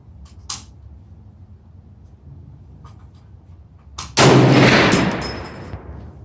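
A single loud, close gunshot from a Bear Creek .450 Bushmaster rifle, a sharp blast with a long echoing decay, preceded by quiet handling clicks.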